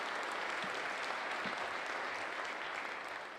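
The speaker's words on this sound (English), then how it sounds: "So a round of applause for our MSU students." A crowd in a conference auditorium applauds MSU students at an awards session, a sustained, fairly soft wash of clapping from many hands lasting a few seconds.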